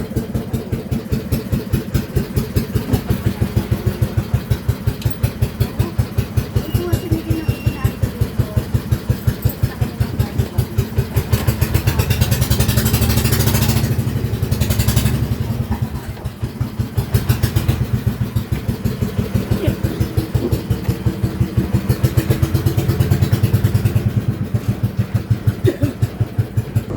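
A boat's motor chugs steadily and loudly throughout, with a rapid rhythmic putter and occasional swells in intensity; no talking.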